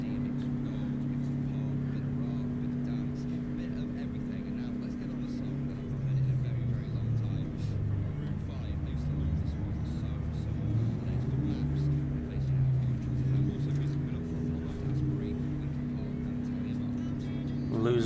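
A truck engine in American Truck Simulator drones low and steadily through a bobtail run while losing air, overheating and stuck below fifth gear; the pitch rises and falls with revving midway, and a voice talks over it.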